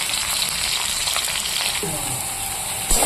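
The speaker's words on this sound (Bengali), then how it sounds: "আলুটা একটু ভেজে নিলাম" Potatoes fry in a pan with a steady, loud sizzle and some stirring. There is a brief louder scrape near the end.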